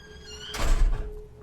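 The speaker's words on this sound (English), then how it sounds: "I entered the home and closed the door behind me." A single door shuts in a dark, eerie horror-story setting, giving one close, solid thump with a brief rumbling tail that fades over about half a second, standing alone over a quiet background tone.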